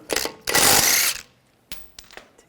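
A 17mm socket on a tool works loose the wheel lug bolts of a 2009-2010 BMW 535i xDrive, making a loud burst of rapid mechanical rattling followed by a few short clicks and clunks.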